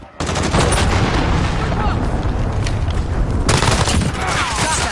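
Dense, loud gunfire from Call of Duty: rapid overlapping shots and bursts fill the whole stretch without a break after a brief quiet start, with a second surge of sharp cracks near the end.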